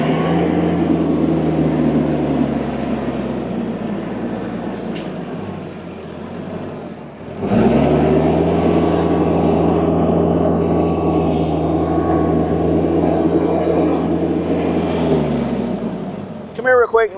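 A tractor pulls a bottom plow through a wet field. The engine drones loud and steady, dips briefly partway through, then comes back under strain and holds a constant heavy rumble.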